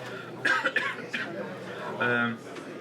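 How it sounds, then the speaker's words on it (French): A few harsh coughs, close and fairly loud, mixed with a voice and throat noises, with another coughing burst near the end. "je m'excuse de tousser"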